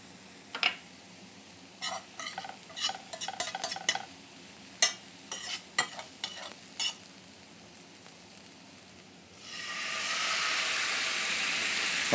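Pan of beef for Rossini sizzling with intermittent stirring clicks, then a sudden loud, steady hiss as port wine is poured in to deglaze, close and alone without talk.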